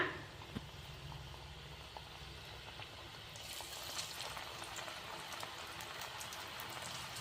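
Vada batter made from gram flour and semolina frying in hot oil, a steady bubbling sizzle that swells louder partway through and holds, close and continuous with no voices.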